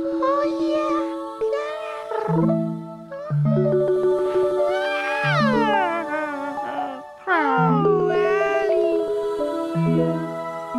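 A cat gives a series of drawn-out, wavering meows, several in a row with brief pauses, close and fairly clear.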